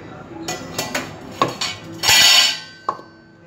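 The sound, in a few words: mixing onion and soya kebab mixture in a pan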